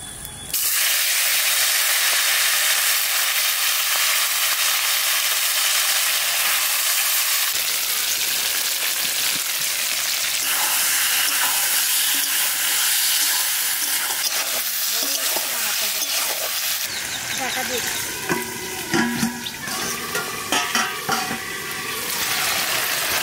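Cumin seeds fry in hot mustard oil in a kadai while country chicken curry is being cooked, a loud, continuous sizzle and hiss with stirring scrapes that grow busier toward the end, and nobody speaks.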